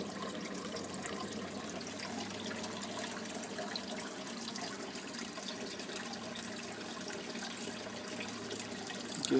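Water overflows from an aquaponics tank and trickles down into the sump, a steady, soft splashing and gurgling flow that holds throughout at moderate distance.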